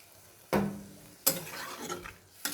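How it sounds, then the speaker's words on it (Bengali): Water poured into tomato curry in a hot pan, bursting into a loud hiss that fades, followed by a second sizzling surge and stirring clatter, close and alone. "এইবার আমি এখানে জল দিয়ে দেবো"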